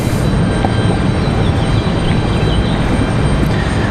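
A Boeing 747 airliner approaches Raleigh-Durham International, producing a loud, continuous jet roar with faint whining engine tones drifting through it, no voices.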